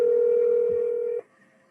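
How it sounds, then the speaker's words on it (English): A single steady telephone dial tone, or one long DTMF keypad tone, holds loud and unbroken for just over a second before cutting off sharply into quiet room hiss, heard while placing a phone call. "Let's make one last phone call."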